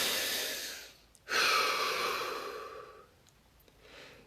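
A person takes a deep breath, close to the microphone: a long airy exhale, a short pause, then a strong inhale that tapers off, followed by a softer breath.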